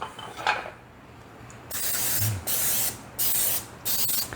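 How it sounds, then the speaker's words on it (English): Several short hissing bursts of aerosol oil spray onto donut pans, one after another with brief pauses between, close and fairly loud. "I'm going to spray the donut pans with oil"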